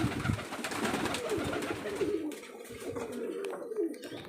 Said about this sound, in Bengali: আমার পায়রাগুলো কেমন লাগলো বন্ধুরা সব কমেন্টে জানিও।